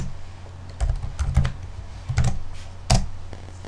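Typing on a computer keyboard while entering a Python help command, short bursts of key clicks in three or four clusters, close and clear with no talk.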